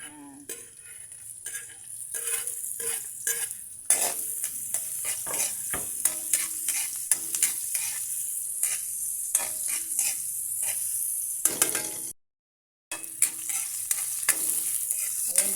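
Onion and garlic sauté in a frying pan, sizzling steadily with repeated stirring and utensil scrapes against the pan, close by. A brief gap of silence falls near the end, and no one talks.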